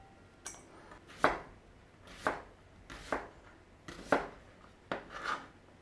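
A knife slices an onion into rings on a cutting board, giving six or seven distinct, evenly spaced chops, each a crisp thud with a brief scrape, close and clear in a quiet kitchen.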